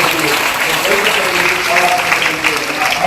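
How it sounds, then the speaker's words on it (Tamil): Loud, dense clapping from an audience at a girls' government higher secondary school event, continuous for a few seconds with some talk mixed in. "அவர்களுக்கெல்லாம் ஒரு கைத்தட்டலை கொடுத்து"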